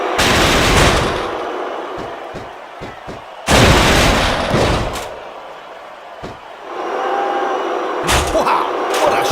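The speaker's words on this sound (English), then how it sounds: "Oh my God, he's using that ladder as a weapon!" Ladder shots in the WWE SmackDown vs Raw 2006 wrestling video game land as loud, heavy booming impacts and whacks over a constant roaring arena crowd, with several hard hits spread across the clip.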